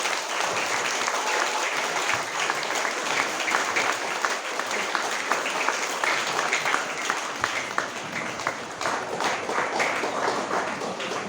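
Loud, dense applause from a school audience at an investiture ceremony, with many hands clapping continuously and evenly for the full stretch as twenty-seven students are honoured.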